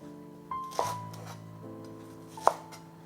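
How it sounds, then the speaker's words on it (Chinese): A knife cuts through scallion whites on a board with a few light, separate strikes over a steady background hum, fairly faint and close. "取一根葱白切断"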